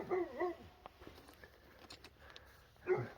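A dog barks outdoors a few times, short yips near the start and another bark at the end, fairly faint against quiet surroundings with some soft rustling in between.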